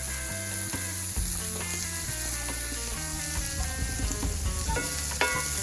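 Onions and bell pepper fry in a pan with cumin powder while being stirred, a steady close sizzle broken by scraping spoon strokes, over quiet background music and without talk.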